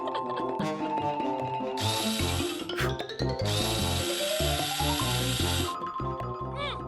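A powered screwdriver whirs in bursts, its motor pitch rising and falling, over a busy cartoon-style musical background with no audible talk.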